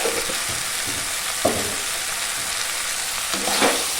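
Ridge gourd and shrimp sizzle steadily in a pan while being stirred, with a dense, hissing fry broken by a few scraping stirs, loud and close and with no voices.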